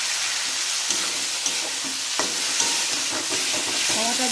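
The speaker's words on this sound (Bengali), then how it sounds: "আমি টমেটো দিয়ে নাড়ছিলাম" Chopped medium tomatoes being stirred into mutton kema frying in a pan, with a steady close sizzle and repeated scraping strokes of the spoon throughout.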